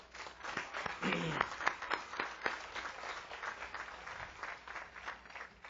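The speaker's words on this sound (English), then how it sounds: "Let's give Dr. McMurray a round of applause." Audience applause rings out at a university commencement ceremony honoring a faculty award recipient, a sustained patter of many hands clapping at moderate distance with faint talk beneath.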